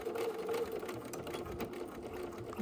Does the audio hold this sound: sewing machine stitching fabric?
yes